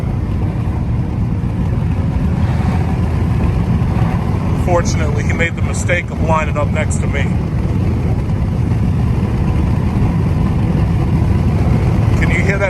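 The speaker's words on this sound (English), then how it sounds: "So this is a Nissan Versa with a fart can" A Nissan Versa fitted with a loud fart-can exhaust drones with a raspy, buzzy engine note, running steadily close by beneath continuous talking.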